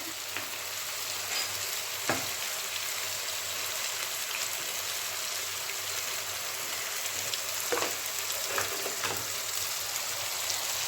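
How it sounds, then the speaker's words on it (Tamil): Tomatoes sautéing for kaalan (mushroom) pepper fry with garam masala and chili powder, giving a steady, close sizzle across the whole stretch, broken by a few brief stirring scrapes and clicks. "தக்காளி நல்லா வதங்கட்டும்"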